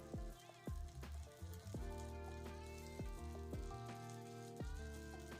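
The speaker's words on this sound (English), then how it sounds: "it is sizzling" Steady sizzling and crackling of batter frying in a mini donut maker, continuous and close, with a few soft clinks of utensils.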